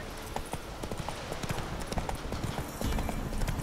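Hooves of Roach, Geralt's horse in The Witcher 3, clip-clop in a steady, close walking rhythm over faint background ambience, with no talk.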